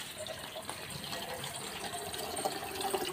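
A steady, fairly faint stream of water poured from a container into a potted tulsi plant at home, running continuously as a soft splashing trickle with no talk over it.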